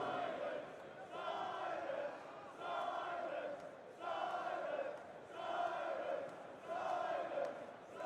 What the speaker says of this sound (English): I love that little NRG cheering section. They're now antagonizing the Astralis side.